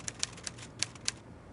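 Behind a locked door in a Poirot mystery, a typewriter taps out a short, brisk flurry of crisp keystrokes, a few louder strikes standing out from softer ones in an otherwise quiet space.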